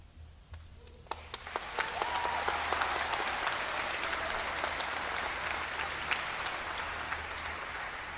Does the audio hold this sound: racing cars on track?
no